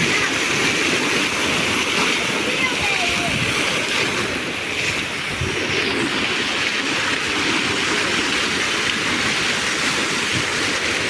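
Steady, loud rushing of splashing fountain water at night fills the whole stretch, a continuous broadband wash with no breaks.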